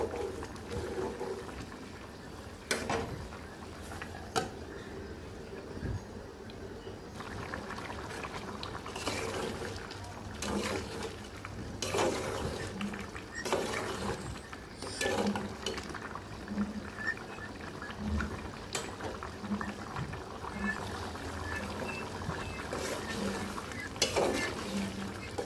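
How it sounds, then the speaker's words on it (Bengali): Beef liver and potato curry in a pan, stirred again and again with the lid lifted: a soft bubbling simmer broken by scraping spoon strokes and sharp metal clanks, without speech. "ঢাকনাটা উঠিয়ে আবার একটু পর পর নেড়ে চেড়ে দিব"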